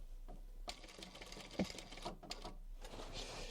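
Sewing machine top stitching upholstery fabric for a box cushion cover, a faint, steady mechanical whir and tick of the running needle heard close.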